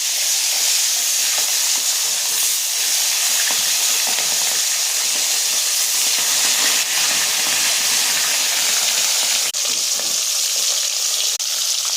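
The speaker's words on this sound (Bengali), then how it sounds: "তেল গরম হয়ে গেছে, মাছটা ছেড়ে দিই।" Turmeric-coated fish pieces frying in hot oil, a steady, dense sizzle with crackling and spitting that stays close and loud throughout, with no talk.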